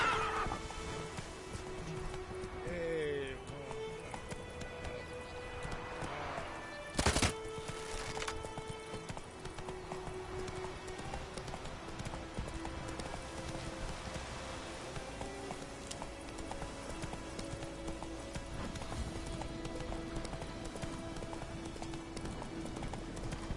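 A horse in the Witcher 3 game trots and gallops with steady clip-clop hoofbeats, and a neigh rises briefly, all at moderate volume over a low continuous game background with no talk.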